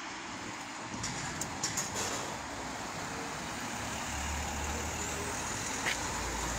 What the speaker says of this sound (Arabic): هذه المحطة ديال القطار ديال مدينة بوينتيرا